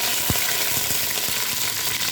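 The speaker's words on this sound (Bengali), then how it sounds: "পেঁয়াজটাই তিনি ভালো করে ভেজে লাল করে নেবেন।" Onion fries in ghee in a pot while pulao is being cooked, producing a loud, dense and continuous sizzle with a few soft clicks from stirring.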